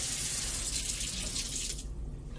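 Water gushes from a tap in a steady, loud hiss, then cuts off near the end, leaving a faint low residue.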